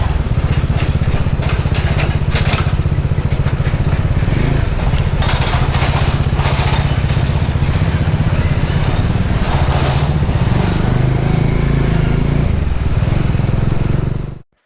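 An Indian motorcycle engine drones loudly and continuously while riding on a road trip into Phuket, Thailand, with rushing wind noise and slight shifts in pitch, cutting off abruptly at the end.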